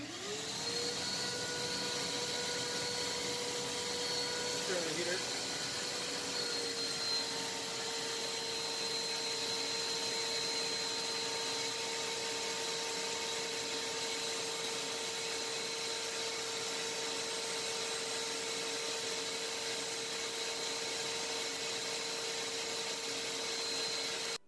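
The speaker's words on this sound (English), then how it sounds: "Let's hit the wet dry vac." A wet/dry shop vacuum running from a 3000W pure sine wave inverter, a steady loud whine and rushing hum held constant throughout, close by with no talk.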